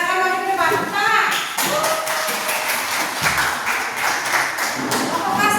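A classroom group claps hands during a Christian religious education lesson, with close, steady clapping mixed with voices talking over it throughout.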